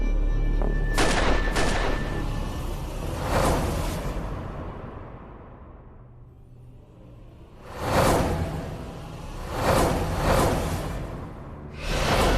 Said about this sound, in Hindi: ये हवाई फायरिंग करूं क्या?